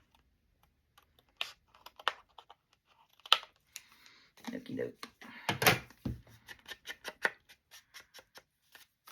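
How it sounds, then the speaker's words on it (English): Fussy-cutting scissors snipping through heavy 110-pound cardstock, a run of sharp crisp clicks and crunches, steady and close, with someone speaking briefly between cuts. "This is 110-pound cardstock, and these are not the best fussy cutting scissors"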